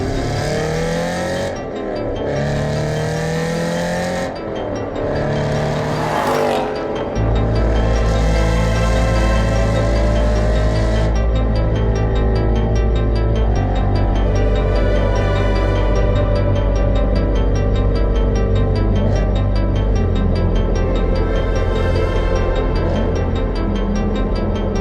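Aston Martin Vantage GT8 driven hard on the road, its engine loud and close throughout with rising and falling revs through the gears and a steady heavy drone in the second half, with no talking.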